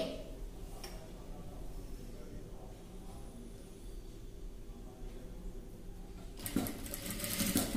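A sewing machine runs steadily for several seconds, stitching a ladies' dress neck design, with a rapid even ticking throughout and a louder burst near the end.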